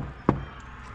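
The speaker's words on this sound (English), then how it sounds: "knock before you enter" A single sharp knock sounds on a door in an abandoned school, one brief thud against a faint background hush with no voices.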